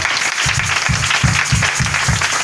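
A church congregation claps and cheers for the Lord, with loud continuous applause carrying steady rhythmic clapping throughout and no speech over it.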